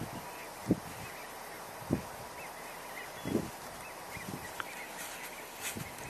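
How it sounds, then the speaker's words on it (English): A few short, low gadwall duck calls sound at a distance, spaced irregularly over a soft outdoor hiss. "You can hear the gadwalls."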